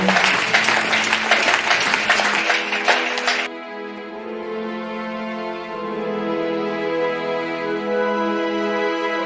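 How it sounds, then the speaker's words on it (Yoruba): A youth seminar audience claps for Jesus: dense, bright clapping fills the first few seconds, then cuts off and gives way to sustained musical tones. "Jésù là ń pàtẹ́wọ́ fún."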